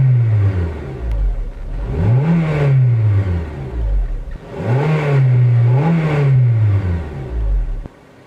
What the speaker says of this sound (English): since we have the engine up and running, let's listen to what it sounds like